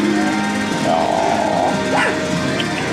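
Several dogs, including white golden retrievers, barking and yipping together outdoors in the evening, a busy overlapping chorus that stays loud and close throughout with steady background noise.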